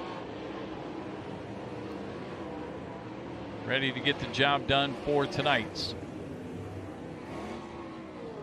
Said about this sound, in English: And the field now coming after the pace truck here in the front straightaway.